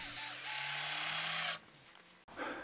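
A power drill bores holes in pallet wood for a raised garden bed, a steady loud whine running for about one and a half seconds, then stopping abruptly, followed by a brief quieter burst of handling noise.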